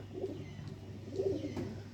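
Fancy pigeons cooing softly in a loft, a few low throaty coos rising over a quiet background hum.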